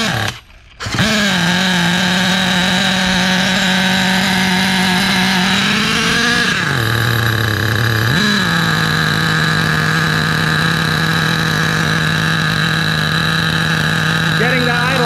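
Nitro RC car big block engine, a Losi Muggy or HPI RS4 with its idle set too high, catches after a brief pause and runs loud and close with a steady buzzing idle that dips and surges twice before settling.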